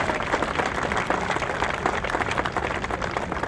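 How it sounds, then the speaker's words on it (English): Audience applause at a Dreamcourt dedication event in Long Beach, New York: dense, steady clapping from a sizable crowd, loud and sustained for several seconds without a break. "Joel Crystal and John McNally, let's give them a round of applause."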